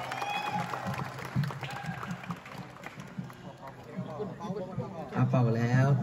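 Audience clapping to welcome a singer at a birthday celebration, scattered claps and crowd noise rising toward the end while someone talks over it throughout.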